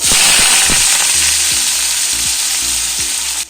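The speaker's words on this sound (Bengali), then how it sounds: "উচ্ছে কুমড়ো আর পেঁয়াজ দিয়ে একসাথে ভাজলে বেশ ভালো লাগে" Bitter gourd, pumpkin and onion fry in a wok with loud, close, continuous sizzling, broken by a few soft stirring knocks, and no one speaks.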